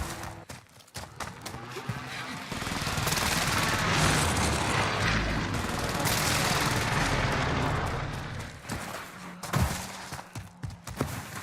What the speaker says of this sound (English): Enemy UAV active. Allied precision airstrike incoming.